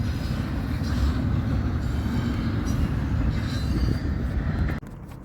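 A southbound BNSF freight train rolls past on the Sioux City Subdivision near Fremont, Nebraska. The rumble of wheels and cars is loud, close and continuous, with faint squeals, and drops off abruptly near the end.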